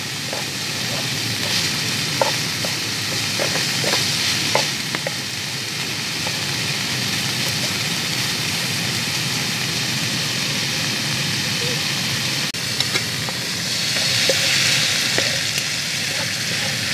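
Portabello mushrooms fry in a pan outdoors in the woods, giving a steady, continuous sizzle with occasional small pops and crackles over the whole stretch.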